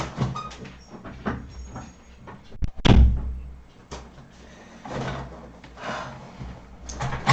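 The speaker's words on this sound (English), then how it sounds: "hang on, let me just close my door." A room door is pushed shut once, giving a single firm thud partway through, close by, amid scuffling movement and other faint household sounds.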